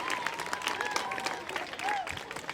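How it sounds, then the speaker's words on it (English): A school crowd gives a round of applause for its athletes and PE team, with steady, moderately distant clapping that has voices mixed in underneath. "I have one final round of applause for all of our athletes"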